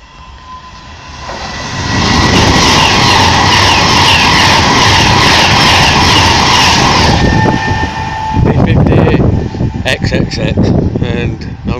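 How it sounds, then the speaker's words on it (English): A Pendolino passenger train on the service from London Euston roars past at close range, a loud sustained rush with steady tonal whine that swells, holds, then breaks into clattering wheel and rail noise as it passes. "it's the third and Pendolino service from London Euston"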